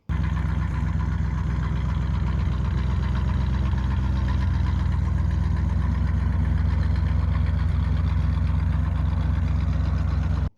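A 1977 Pontiac LeMans idles with an aftermarket exhaust, a steady deep rumble with a thick low burble, close and loud, running unbroken throughout.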